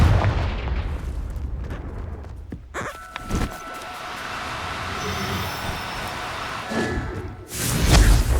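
Confringo fire spell explosions from the Hogwarts Legacy video game burst out as sudden loud blasts, followed by a sustained crackling, rumbling roar that fades, then another heavy blast near the end.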